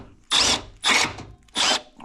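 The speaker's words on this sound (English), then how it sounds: "So I'm just trying to drill it out." A power drill bores out an old worn bushing on a truck in three loud, close bursts of grinding whine, with brief pauses between them and no talking.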